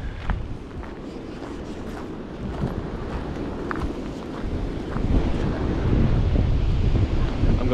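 Strong wind buffets the microphone beside a choppy lake during a fishing trip, a constant rough roar that swells louder toward the end, with no talking.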